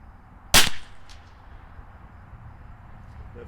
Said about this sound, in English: we're just gonna sight in with this first 5 shots